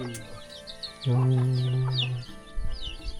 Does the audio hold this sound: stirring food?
no